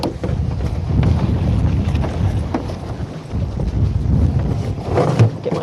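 Small Sunfish sailboat fitted with a homemade jib, tacking in light wind: steady low wind rush buffets the microphone while water sloshes against the hull, with a soft thump near the end and no talk.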